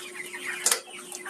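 A chicken clucks softly in a rural yard, with a couple of short, sharper clucks in the middle of the clip against quiet background noise.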